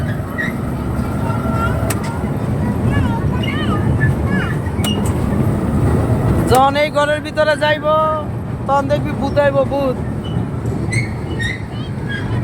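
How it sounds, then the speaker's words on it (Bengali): A small amusement-park ride train rolls slowly into a ghost house, its steady low rumble and faint metallic squeals running throughout while people talk and call out excitedly over it close by. "আমাদের ট্রেন আস্তে আস্তে ভূতের ঘরে প্রবেশ করতেছে।"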